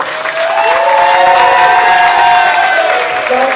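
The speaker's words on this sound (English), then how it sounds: "A huge round of applause." Audience applause with some cheering fills a hotel function room at a tribute night for the TV show Number 96, loud and steady throughout, with no talk over it.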